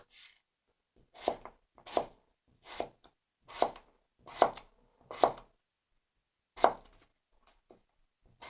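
A BPS Knives Rosemary knife cuts through food on a board in a steady series of crisp slicing strokes, evenly spaced with brief pauses, close and fairly quiet.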